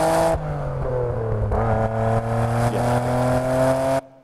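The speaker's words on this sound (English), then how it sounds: "I had to put engine sounds in it." Synthetic engine sound laid over footage of a tuning car, a loud buzzing harmonic drone that dips and rises in pitch like repeated revving, then cuts off abruptly near the end.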